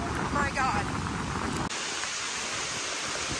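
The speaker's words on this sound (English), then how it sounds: "Oh my God, it's raining so hard." Heavy rain pours steadily and loudly during a hike at Hanging Rock State Park or Congaree National Park, a dense continuous hiss with a voice briefly audible at the start.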